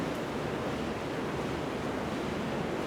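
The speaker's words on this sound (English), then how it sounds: "The water wheel turns most days, a source of green energy to drive the mill's machines." An 1821 water wheel turns at a Victorian spinning mill, giving a dense, steady rush of churning water that stays even throughout with no voices.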